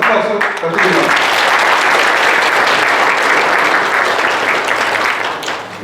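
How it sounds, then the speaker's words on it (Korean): Audience at a Korean army reserve officers' security forum general meeting and inauguration ceremony applauds a congratulatory speaker, steady dense clapping filling the room for nearly six seconds, loud and close, with a voice briefly heard at the start. "축사를 해주신 이영희 회장님께 다시 한번 큰 박수 부탁드립니다"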